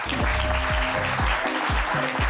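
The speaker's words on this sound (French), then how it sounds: "Applaudissements pour lui" A television studio audience claps loudly and steadily to welcome Alexandre Benalla, the dense applause running under a pulsing musical backing.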